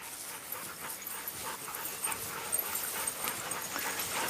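Dogs whimper and pant close by in a busy, noisy setting, with faint soft yips scattered through a steady hiss; no speech.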